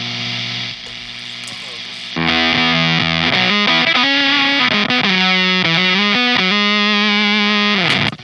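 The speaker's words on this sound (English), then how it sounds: "Get that Velcro fuzz." Electric guitar driven through a Velcro fuzz pedal, loud and saturated, starting with a held gated note then ringing out big open fuzzed chords and shifting notes for several seconds before cutting off abruptly.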